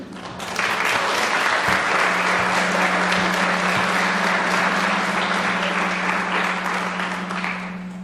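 An audience applauds loudly and steadily for several seconds, with a low electrical hum running underneath the clapping throughout.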